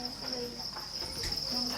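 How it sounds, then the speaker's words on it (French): Crickets raised in concrete breeding tubs beneath a house keep up a loud, continuous high-pitched chirring drone, steady and dense throughout with faint rustling underneath. "je vais vous montrer comment j'élève mes grillons."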